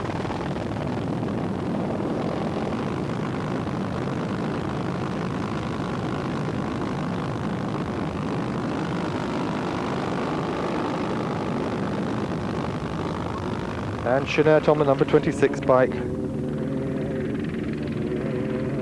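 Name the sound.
helicopters flying over rally raid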